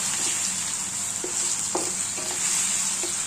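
Garlic and ginger fry in a pan for a chicken and jackfruit-seed dish, a steady close sizzle broken by several light scraping stirs and clinks of the spoon.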